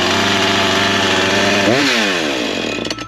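A Husqvarna chainsaw runs loud and close at high idle, with a steady buzzing drone that bends and shifts partway through before the engine note starts to falter at the end.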